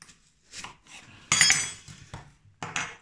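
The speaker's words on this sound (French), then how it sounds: "On va émincer l'oignon." Knife chopping an onion on a board in a kitchen: a few separate crisp knocks and scrapes with short pauses between them, close and clear, with no talk.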